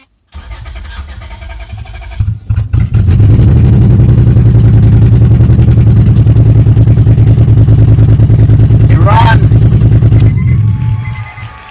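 A 2003 Honda Accord with a swapped V6 engine cranks and fires up with no muffler connected, then runs as a loud, raw, rumbling idle for several seconds before shutting off.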